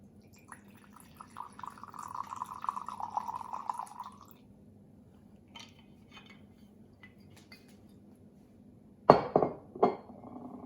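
Spiced rum poured into a glass, a soft liquid trickle for a few seconds, then quiet before two sharp clinks of glass and cutlery near the end.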